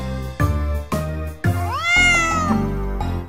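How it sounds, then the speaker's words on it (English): In a children's farmyard song, a cat meows several times over a steady musical backing, with one long rising and falling meow in the middle. "A cat is in the barn."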